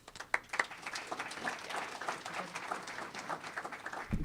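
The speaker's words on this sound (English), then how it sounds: "Please give Sharon another round of applause" Audience applause at an evening panel event, a steady wash of many hands clapping at moderate distance, fairly quiet and continuous throughout with no voices over it.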